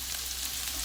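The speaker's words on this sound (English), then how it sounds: "add the onion when the oil is nice and hot. We're just gonna mix it around, incorporate it everywhere in the pan" Chopped onion frying in hot oil in a pan for stuffed cactus in batter, giving a steady, even sizzle throughout with no voices.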